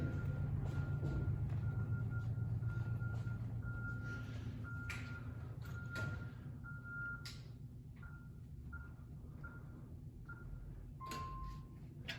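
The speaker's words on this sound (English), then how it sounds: "I was hearing that, and I was looking for a little truck backing up or something" A truck's reversing alarm beeps at a steady repeating pace, fairly faint and distant, over a continuous low rumble of traffic and outdoor background noise.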